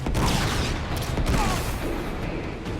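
Sustained gunfire in Uncharted 3: Drake's Deception, a dense, loud barrage of rapid shots with heavy booms rolling through the whole stretch, with no talk over it.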